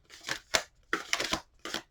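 Hands shuffling a stiff tarot card deck produce several short papery riffles and slaps in uneven bursts, close and fairly crisp with quiet gaps between them.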